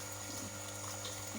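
Cold water pouring into a pot while Kashmiri pink tea (kulfa chai) is being made, a steady low gushing wash of liquid heard alone and fairly faint throughout.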